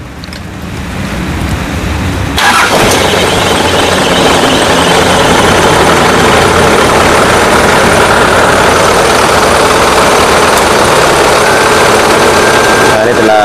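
A 1980 Mitsubishi truck engine, with a newly fitted air conditioner, cranks and then catches, settling into a loud, steady, rumbling idle that continues close by for several seconds.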